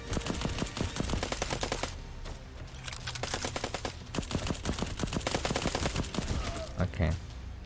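Rapid, continuous gunfire from the video game Black Skylands, a steady stream of sharp shots rattling close and loud for several seconds with brief gaps.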